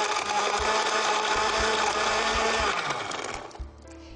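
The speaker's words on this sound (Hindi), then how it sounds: "चीज़ों को डाल के ब्लेंडर में आप ब्लेंडर को ब्लेंड करें।" A kitchen blender whirs steadily while blending milkshake ingredients, a loud continuous motor drone with a churning texture that winds down and stops near the end.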